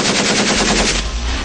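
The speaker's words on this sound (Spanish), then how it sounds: "estos civiles disparan." Civilian militia members fire guns at a Venezuelan military base in a loud, close burst of rapid automatic gunfire. The shots run together as a continuous rattling volley, with an echoing tail at the end.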